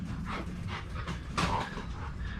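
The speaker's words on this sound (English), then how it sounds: "I know you hear the dogs in the background running back and forth." Dogs scrambling around in the background of a speed shop build site, a muffled rumbling of paws and panting that swells and fades in soft waves, with a brief louder thump near the middle.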